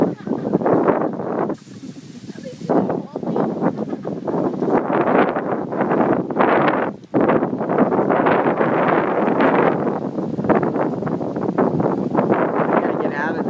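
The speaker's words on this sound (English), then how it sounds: "I gotta get out of this wind." Outdoor wind buffets the microphone in gusty, roaring rushes that rise and fall across the whole stretch, loud and close, with a person talking underneath.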